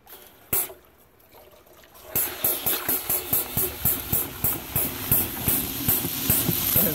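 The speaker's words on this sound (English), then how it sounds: "So we're going to run it, and you can see the fuel actually come out of this brush." A fuel polishing pump runs contaminated diesel through a flow-through brush. After a brief quiet start, a sputtering liquid gush starts up, pulsing in a rapid, regular rhythm close by.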